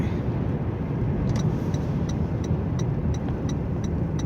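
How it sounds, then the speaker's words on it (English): Steady low petrol engine hum of a Toyota Prius Prime hybrid running to heat the cabin on a 0°F day, with faint repeated high clicks over the rumble. "There we go, there's our engine. 11 degrees, engine's on."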